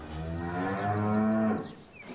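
A cow moos once, long and loud, close by in a farm setting, the low drawn-out call fading near the end with no talk over it.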